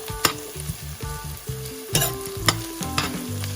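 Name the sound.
onions and thyme cooking in a pot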